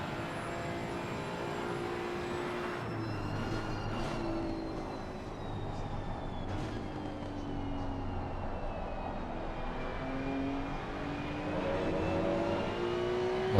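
GT2 race car engine roaring around Suzuka Circuit in a racing sim, a steady continuous drone with shifting pitch as several cars run together, holding at even loudness throughout with no talk.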